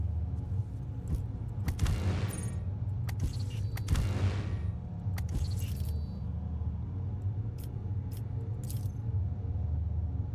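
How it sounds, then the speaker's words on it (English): Force grenades detonate in Warhammer 40k Rogue Trader, a few sharp explosive blasts with crackling tails over a steady low game hum, followed by scattered smaller impacts. "Fine, we'll use some force grenades."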